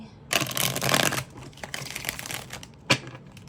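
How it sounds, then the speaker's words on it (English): A tarot deck is riffle-shuffled close up, a dense fluttering burst followed by a quieter second riffle and a sharp tap. "let's get one more shuffle here for our lovely Libras"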